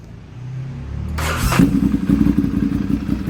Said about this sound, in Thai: เดี๋ยวผมสตาร์ทให้ดูสดๆเลยนะครับ